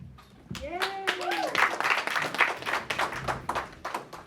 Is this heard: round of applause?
yes